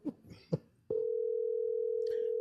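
Steady telephone dial tone held continuously after a few brief handling clicks and rustles, heard up close through a phone while someone calls their mother.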